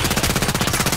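Rapid automatic gunfire from a weapon in the shooter game Contract Wars, a steady stream of loud, evenly spaced shots filling the whole second with no pauses.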